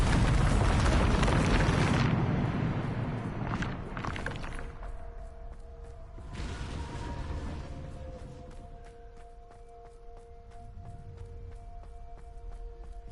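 A Bombarda blasting spell detonates in Hogwarts Legacy, a loud, rumbling game explosion that booms at the start, then swells again midway before fading into a lingering tonal hum.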